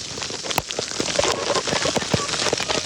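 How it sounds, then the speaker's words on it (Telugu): Steady rain falls on surfaces outdoors in Nepal on the way toward a temple, a dense hiss broken by sharp individual drop impacts throughout, close and fairly loud with no clear talking. "వర్షం పడుతుందిరా బాబు"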